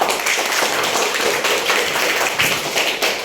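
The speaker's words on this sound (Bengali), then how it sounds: "সবাই জোরে তালি দাও" Pupils in a classroom clapping loudly together, a dense burst of many hands beating in a rough quick rhythm, close and loud for a few seconds.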